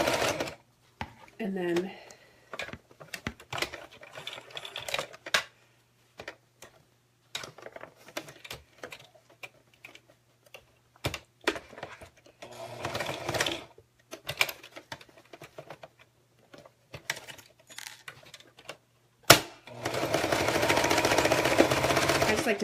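A sewing machine back-stitching a zipper, with short rattling bursts of stitching that start and stop between stretches of nearby talk, then a longer steady run near the end.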